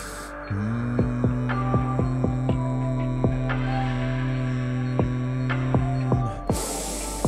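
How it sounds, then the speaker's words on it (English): A person hums a long, steady sustained tone at the end of a deep inhale during a guided breathwork session, the low drone holding for several seconds under faint rhythmic ticks before the breath is released. "All the way in, and we're gonna hum."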